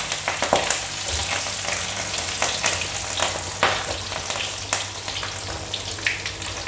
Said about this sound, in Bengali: এবার এক এক করে সবজিগুলো আমি ভেজে নিচ্ছি